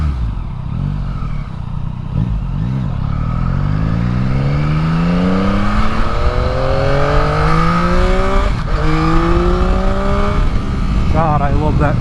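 A 2021 Yamaha MT-09 SP motorcycle accelerates hard in traffic, its engine note climbing loud and close through repeated rising revs with gear changes and a sustained roar.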